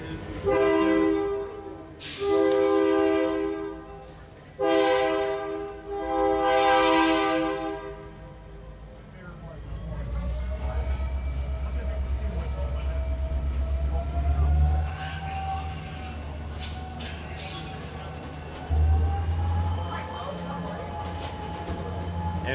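Train on the Lehigh Gorge scenic railroad, with several loud horn blasts followed by a steady rumble of rolling cars and wheel noise, occasional squeals riding over the low drone.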